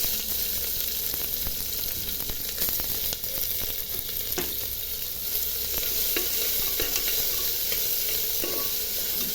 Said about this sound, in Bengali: পেঁয়াজটা ভাজা ভাজা করে নিচ্ছি।